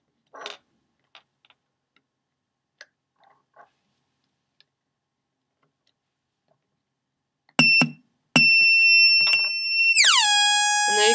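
A homemade electronic oscillator circuit sounds a loud, bright buzzing tone close up: first a short burst, then a sustained tone that drops in pitch partway through. Faint ticks and clicks come before it, with no talking.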